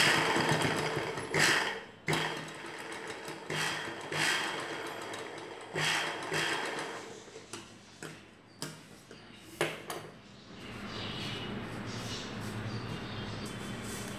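A sewing machine stitches blouse fabric in short, bursty runs of rapid mechanical whirring, stopping and starting several times at close range before a quieter steady stretch, with no voices.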